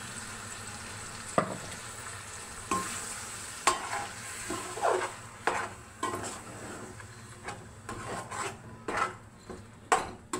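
A blended gongura and tomato paste fries in a pan, sizzling softly while a spoon stirs and scrapes, tapping against the pan edge in irregular knocks throughout.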